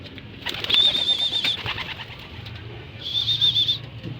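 A young pigeon flaps its wings in short flight, soft fluttering bursts near by, with two high tonal whistles sounding over the flapping.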